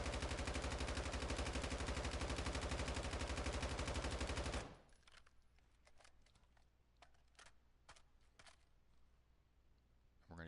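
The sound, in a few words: full-auto gunfire from the video game Call of Duty DMZ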